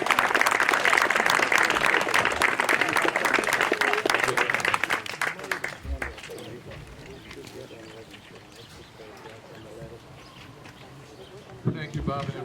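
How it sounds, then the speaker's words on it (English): A crowd at a Memorial Day service applauds the Boy Scouts, dense clapping that holds steady for about six seconds and then thins into scattered claps and murmuring, with a brief knock near the end. "If we could give a round of applause to the Boy Scouts for coming out."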